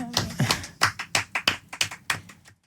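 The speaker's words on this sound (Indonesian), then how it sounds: "Tepuk tangan dulu untuk SMA 16 yang sekarang." A small group claps for SMA 16 in roughly a dozen distinct, fairly close hand claps at an even rhythm over a couple of seconds, then stops.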